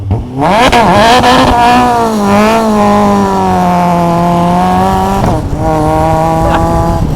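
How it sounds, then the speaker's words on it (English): A high-revving Caterham 620R sports car engine screams loudly from inside the car, pitch climbing and holding under acceleration, briefly dipping at a gear change before pulling again. "this is what it's like driving a 620R"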